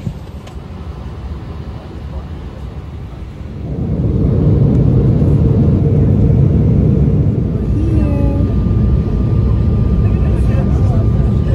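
Steady low roar of a passenger plane cabin in flight, a broad engine and air rumble that swells louder after a few seconds and holds constant, with faint tonal chimes over it.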